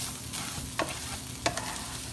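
A spatula scrapes and stirs drained ground beef frying dry in a pan, two sharp scraping strokes over a soft, continuous sizzle.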